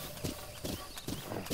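Horse galloping in a Zelda video game, rapid rhythmic hoofbeats in repeating triplet clusters, close and steady, with no talk over them.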